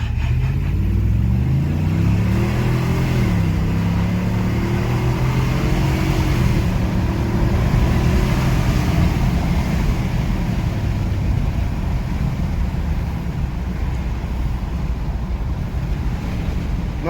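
A Ford F-250 with the 7.3 gas engine, an 8,000-pound truck, accelerates hard from a stop, engine note climbing through gear changes before giving way to steady road and wind roar inside the cab.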